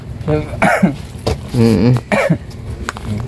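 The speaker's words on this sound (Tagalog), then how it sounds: "Pagaling ka at inuubo-ubo ka pa ha." Several rough, throaty coughs come in short bursts, close and fairly loud, with a little background noise between them.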